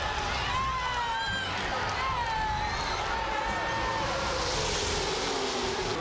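A NASCAR race crowd of 170,000 roars in a steady, continuous wall of noise as Dale Earnhardt Sr. takes the lead on the final lap, with a commentator talking over it.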